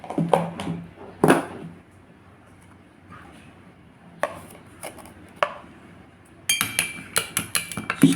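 Metal utensils clink and tap against a bowl while paco fern salad is stirred, a run of sharp bright knocks in loose bursts, with quieter pauses between and a busier cluster of clinks near the end.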